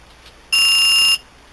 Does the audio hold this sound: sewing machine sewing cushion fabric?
no